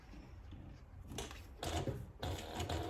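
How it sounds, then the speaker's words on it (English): A DU 1181 sewing machine top stitches the finished edge of a zippered project bag, starting quietly then running in short close bursts of buzzing mechanical stitching with brief pauses, no voices. "We're gonna top stitch across this little finished edge on both ends."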